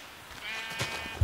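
A faint, thin bleat from a sheep in a video game, brief and wavering, followed by a soft thump at the very end.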